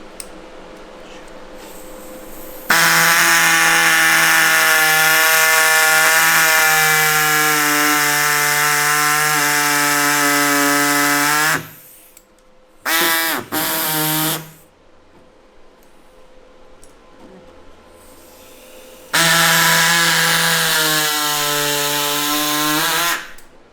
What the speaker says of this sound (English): So gotta trim the bumper, got the okay from the owner to fit this gigantuan Speedfactory muffler.